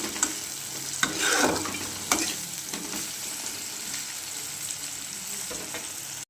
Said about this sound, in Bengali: আদা, রসুন, পেঁয়াজ, কাঁচা লঙ্কা ভালো করে ভেজে নেব।